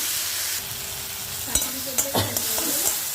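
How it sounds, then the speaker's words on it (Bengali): Eggplant frying and being stirred in a pan for bharta, with a steady close sizzle and several sharp scraping stirs near the end. "আর এটা এখন বেগুন ভাজা করে ভর্তা।"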